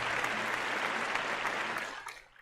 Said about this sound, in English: And a big round of applause for Terry.